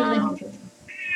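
A house cat meows once, a drawn-out, fairly close call that fades out, followed by a brief fainter tonal cry.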